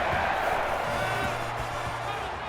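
Steady roar of a large stadium crowd in the NCAA 14 college football video game, LSU at Florida, a dense continuous wash of cheering under a commentator's voice.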